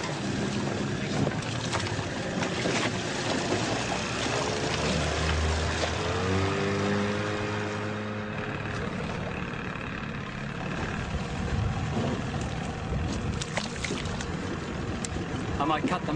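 A boat motor runs steadily on open water during a sea snake tracking outing, a continuous low drone with wind buffeting the microphone and people talking over it.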